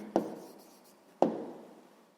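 Pen writing down a math answer on paper, two short scratchy strokes each fading quickly, close and quiet with no talk.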